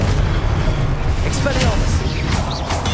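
Repeated spell blasts in Hogwarts Legacy from the fiery Confringo and the Defendo charm, heavy booming impacts over a constant low rumble, with several sharp bursts through the moment.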